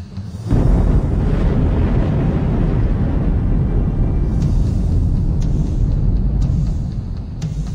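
Volcanic eruption as mountains explode, a sudden deep blast opening into a sustained, heavy rumbling roar that stays loud and close, then eases slightly at the end.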